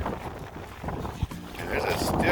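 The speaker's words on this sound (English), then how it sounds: "And there's a stiff breeze out here." A stiff breeze blows over a sailboat under sail on Puget Sound, giving a soft, steady rush of wind and water noise that swells toward the end, with one brief knock midway.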